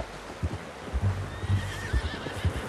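A horse whinnies with a rising, wavering call over a rhythm of hooves clopping close by, in the video game Red Dead Redemption 2.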